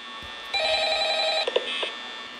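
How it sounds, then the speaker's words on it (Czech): An electronic telephone ring from the Five Nights at Freddy's 2 video game sounds as one long, bright, buzzing burst, then breaks into a few shorter chirps, fairly loud and close with no talking over it. "Ježišmarja, ten telefon."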